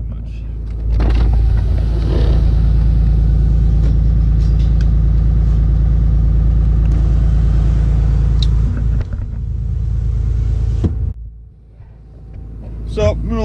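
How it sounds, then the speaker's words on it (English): A truck engine idles while warming up, a loud, steady low rumble with wind buffeting the microphone, holding for about eleven seconds before dropping away near the end. "So, I'm going to let the truck finish warming up."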